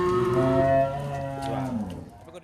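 A single cow gives a long, loud, close moo that slowly falls in pitch at a busy livestock market in Kajen, with faint market noise behind it.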